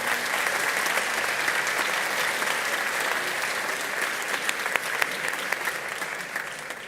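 A graduation audience at a technical academy ceremony applauds steadily, a dense, sustained clapping from a large crowd that holds at an even level throughout and thins only slightly toward the end.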